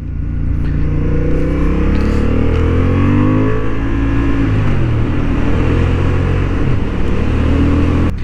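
Honda Hornet 750 motorcycle engine on a racing track, a loud continuous drone with pitch rising and falling as the rider accelerates and shifts, close and steady throughout with no talking.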